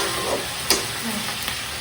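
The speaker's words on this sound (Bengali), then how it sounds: "এখন ভালো করে নাড়াচাড়া করে নিতে" Chili chicken sauce being stirred in a hot pan, a steady close sizzle with a brief scrape or clink partway through.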